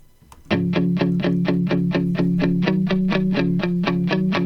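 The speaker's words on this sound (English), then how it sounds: "Then these clean guitars, they sound like this." Clean electric guitar run through effects, playing a rapid, evenly repeated picked note pattern that starts abruptly and stays loud and steady throughout.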